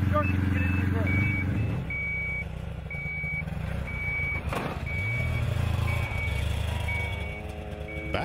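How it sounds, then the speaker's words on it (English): Steady electronic beeps repeat at an even pace, high and clean, over a loud low vehicle-like rumble and mechanical noise, with a voice speaking in places. "as long as it's beeping like that"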